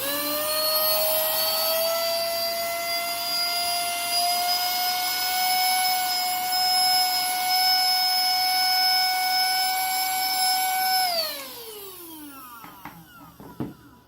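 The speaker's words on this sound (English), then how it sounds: "I'm going to run this vacuum quick, and then I'm going to run it in the car later. So you can see how it sounds." A Fanisic Mini handheld cordless vacuum cleaner runs with a loud, steady high-pitched whine close up, holding level for about eleven seconds before winding down as it is switched off, followed by a few faint clicks.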